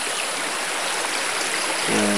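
A stream of water at a rural bathing spot rushes and trickles steadily and close by, a continuous broadband wash with a faint voice-like sound at the very end.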